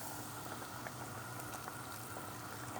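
Yayla soup boiling in a pot as sauce is poured over it, a quiet, steady bubbling and gurgling with small pops throughout, with no one talking.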